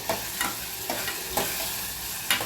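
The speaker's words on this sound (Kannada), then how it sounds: "ಚೆನ್ನಾಗಿ ಫ್ರೈ ಆಗ್ಬಿಟ್ರಿ ಟೊಮೆಟೊ ಬಿಡಬೇಕು" Finely chopped tomatoes frying in a pan for aloo bonda filling, with a soft sizzle under about five distinct scraping stir strokes at an even pace.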